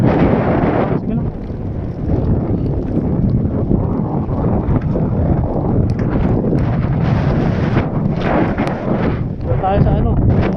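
Strong gusts batter the microphone in a continuous roaring rumble on a fishing boat in Ternate, Cavite, Philippines, with voices faintly audible beneath the buffeting.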